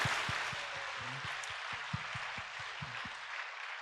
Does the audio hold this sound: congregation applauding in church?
yes